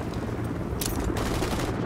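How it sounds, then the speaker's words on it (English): Rapid automatic gunfire in a Call of Duty match, a dense continuous rattle of shots with a brighter burst partway through, no talking. "Taking fire!"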